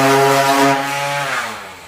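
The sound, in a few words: power sander sanding wood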